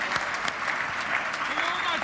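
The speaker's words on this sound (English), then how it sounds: "you deserve a huge round of applause for that" An audience at a Democratic Alliance Freedom Day rally in South Africa applauding, dense, steady clapping that fills the whole moment, with voices mixed into the crowd noise.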